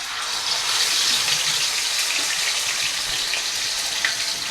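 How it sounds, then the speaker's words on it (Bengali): Chicken pieces fry in hot oil in a pan on lowered heat, making a steady, even hiss that carries on alone without a break. "চিকেনগুলো এবার আমি আস্তে করে করে ভেজে নেব।"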